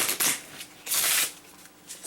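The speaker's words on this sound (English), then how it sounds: "Shuffle these real fast." A deck of cards from the Galactic Strike Force game is shuffled quickly by hand, two loud riffling bursts close up followed by a fainter one, with no talking.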